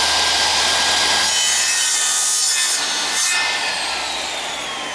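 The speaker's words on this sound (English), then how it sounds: "If I want to cut an angle on the end of this piece of timber," Drop saw cutting an angle on a piece of timber, a loud, close, continuous rasping buzz of the blade through the wood, easing slightly toward the end, with no voices.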